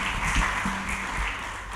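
Brief applause from a gathering welcoming two family members, a short patter of clapping under a low murmur, lasting under two seconds.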